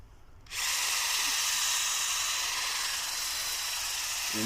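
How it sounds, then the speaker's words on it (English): A power drill fitted with a brush attachment spins up after a short quiet moment and scrubs car interior carpet treated with lemon-scented fabric cleaner, giving a loud, steady whirring hiss that runs on continuously. "And then we'll take our brush and our drill."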